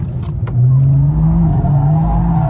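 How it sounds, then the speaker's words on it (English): A BMW M2 F87 engine held at high revs while the car drifts sideways, a loud steady droning tone with slight pitch wavering, close and continuous with no talk over it. "Little flick of the wrist and the car instantly goes sideways and destroys those tires."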